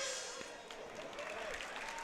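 Crowd applause at the SENSHI 14 kickboxing event as the Mehmet Ozer vs Jakob Styben bout ends, a steady, fairly faint wash of clapping filling the whole stretch, with a commentator talking over it.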